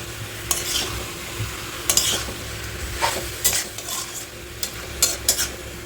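A pan of food sizzles and fries steadily while a utensil stirs and scrapes it in short bursts, close and fairly loud, with no one speaking.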